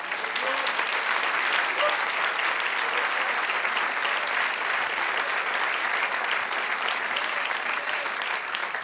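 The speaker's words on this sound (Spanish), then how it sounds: "Dale un aplauso al Señor." A church congregation claps for the Lord in a long, steady round of applause. The applause stays dense and even for nearly nine seconds, moderately loud, and no voices are heard.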